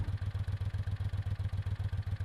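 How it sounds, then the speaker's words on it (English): An old, heavy truck engine chugs at a distance in a fast, even rhythm of low thumps with a faint clatter on top, steady in level and heard alone with no voices. "he heard the sound of an engine in the distance."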